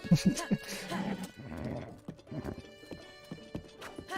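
Horse hooves galloping in the video game Breath of the Wild: a quick rhythmic clip-clop that runs through the whole stretch, with a short whinny near the start and some voice mixed in.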